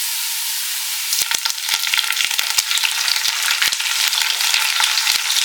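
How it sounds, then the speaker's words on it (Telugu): Chopped onions with fresh coriander and mint fry loudly in a pan for country chicken biryani, a dense, constant hiss broken by sharp scraping clicks from stirring. "ఈ ఆనియన్స్ వచ్చేసి కొంచెం కలర్ చేంజ్ అయ్యే వరకు మనం ఫ్రై చేసుకుందామండి"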